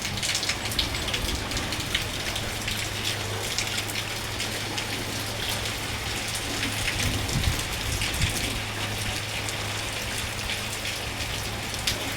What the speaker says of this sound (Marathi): आमच्याकडे केलं बघा पावसानं सुरुवात आज पहिला पाऊस आहे